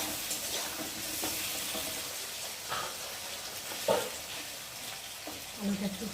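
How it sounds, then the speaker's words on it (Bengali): Potatoes fry in a pan as the first step of a Bengali fish curry, giving a steady, close sizzling hiss with a few soft stirring knocks and scrapes. "আলুটা একটু ভাজা ভাজা হোক।"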